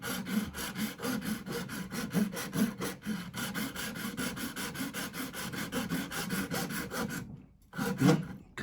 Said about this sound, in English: I'm going to start cutting properly now.